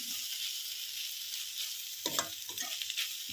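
Okra and onions fry in a pan with a steady bright sizzle, and a few louder stirring scrapes and clatters come near the end. No one speaks.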